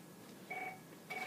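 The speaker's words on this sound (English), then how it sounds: "my phone's ringing." A phone rings indoors during an office conversation, giving two short, faint electronic tone bursts about half a second apart against quiet room noise.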